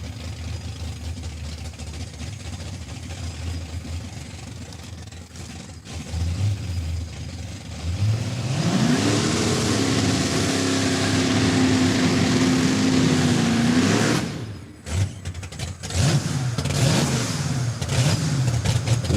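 A Cadillac and a Chevelle drag race down a quarter-mile strip at Saskatchewan International Raceway, with engines rising from a distant rumble to a loud sustained roar, dropping briefly, then revving again as the cars pass.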